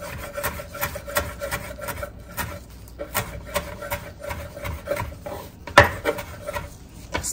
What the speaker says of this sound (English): let's chop some fresh parsley on up